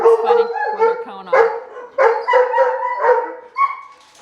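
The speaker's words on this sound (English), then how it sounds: "Who are they barking at?" Several livestock guardian dogs bark on a farm in loud, irregular bursts, some deep and some higher yips, with a voice talking over them.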